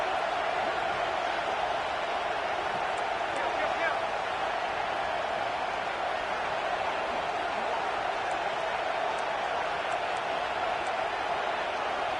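Steady stadium crowd roar in the College Football 26 video game, a dense continuous wash of cheering that stays loud and even throughout, with no one speaking.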